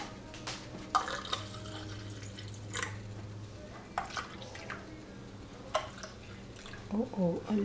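Liquid trickles and drips into a container in short spurts amid kitchen clatter during yoghurt making, with background hum and a brief voice near the end.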